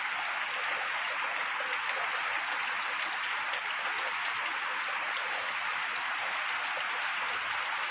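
Heavy rain pours down in Sylhet as a dense, steady hiss that never lets up, with no other sounds standing out.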